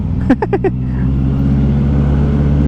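A Honda CB650R motorcycle engine idles steadily on a night ride, with a few quick, sharp throttle blips up front.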